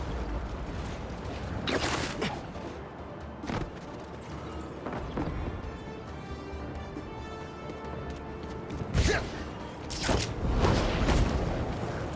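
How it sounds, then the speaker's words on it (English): Fireworks go off in the video game Marvel's Spider-Man 2, scattered sharp bangs and crackling bursts at intervals over a steady city background, some near and loud, others softer and farther off. "Fireworks?"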